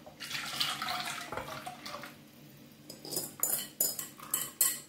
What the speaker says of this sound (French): je vais remettre tout ça dans la casserole et on va mettre ça au feu.